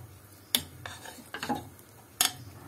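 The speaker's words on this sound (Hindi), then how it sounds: "गैस की फ्लेम को तेज कर लेते हैं और इन्हें अच्छी तरह से हम मिक्स कर लेते हैं।" A spoon stirring vegetable pulao rice in a pan over a high gas flame, with a few distinct metallic clinks and soft scraping scuffs, quiet and close.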